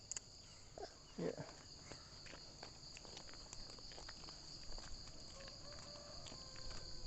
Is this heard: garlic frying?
no